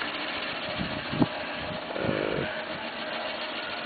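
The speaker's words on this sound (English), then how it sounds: "The wind turbine is still turning pretty wild. You could hear it in the background." A homemade DIY wind turbine spins hard in the background, giving a continuous droning, buzzing whir like a small engine, with steady wind noise and a few brief knocks, and no voices.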